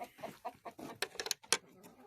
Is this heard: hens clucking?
yes